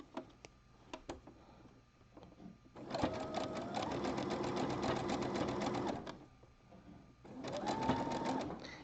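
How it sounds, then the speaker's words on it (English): A sewing machine stitching a jockstrap runs in quick rhythmic bursts, close and moderately quiet, with short pauses and a few clicks and handling sounds between runs. "And then I'm going to keep sewing."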